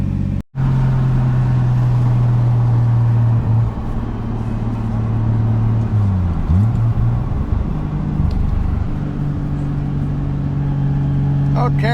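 Toyota Supra with a boosted 7M engine pulling along in second gear, a steady mid-pitched drone that climbs slightly and shifts, with people talking inside the cabin throughout.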